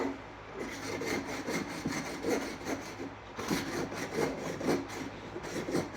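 A wooden subwoofer speaker grill edge is deburred by hand, producing repeated rasping, sawing-like strokes in a steady back-and-forth rhythm, close and alone.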